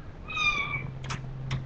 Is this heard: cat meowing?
yes